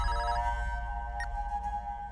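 A phone ringtone chirps steadily for about two seconds at moderate volume, a sustained electronic tone that plays on its own without any voices, heard while an outgoing call is being placed.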